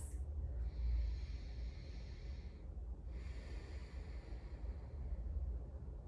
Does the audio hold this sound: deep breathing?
yes